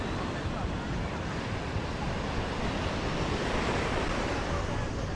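Ocean surf breaks at Boa Viagem beach in Recife, heard as a dense, continuous roar of waves and wash, loud and close, with wind buffeting the microphone.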